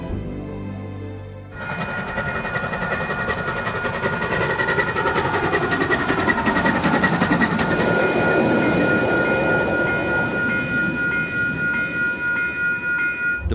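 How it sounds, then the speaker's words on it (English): A New Zealand railway train runs through the rugged King Country after leaving the Waikato flats, starting with a faint steady tone and then opening into a loud, continuous rumble and rattle of wheels on track with a sustained tonal hum. "our train exits the flats and swamps of the Waikato and begins to negotiate its way through the rugged terrain of the King Country"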